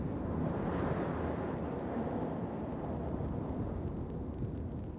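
Strong wind gusts roaring steadily across a frozen lake at Lake Kiwassa, Saranac Lake, NY, during ice fishing, a loud continuous low rumble buffeting the microphone with no voices.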